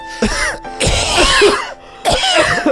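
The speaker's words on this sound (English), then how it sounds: "Who's got a worser, realer cough?" Three bursts of forced, dramatic coughing from a person, loud and close, separated by short pauses, with a raspy, wheezy edge.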